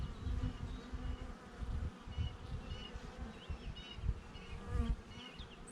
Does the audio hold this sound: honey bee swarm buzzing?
yes